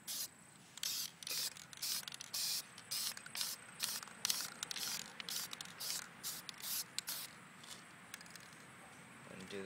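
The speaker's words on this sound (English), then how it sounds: "So we'll go ahead and spray paint that." Spray paint from an aerosol can coats a part of an Xbox 360 controller in a rapid series of short hissing bursts, close and steady, with small handling noises between them.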